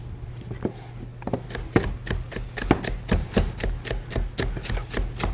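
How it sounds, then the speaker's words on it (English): A knife chops red pepper, garlic, zucchini, asparagus and tomatoes on a board, a steady series of crisp, close thuds at a moderate pace. "Let's cut up some. We got some red pepper and some garlic, zucchini, asparagus, tomatoes,"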